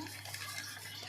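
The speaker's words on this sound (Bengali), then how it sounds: "পানি দিয়ে দিলাম," Water runs into a cooking pot of rice, a short, steady, close gushing pour with a low hum underneath.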